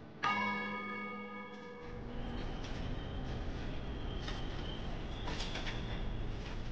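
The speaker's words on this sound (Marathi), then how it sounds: "दर 15 मिनिटांनी या घड्याळातून घंटानाद होतो।" Rajabai Tower clock bell in Mumbai strikes once with a long ringing hum that fades, then a broad wash of traffic and city noise takes over with scattered clanks.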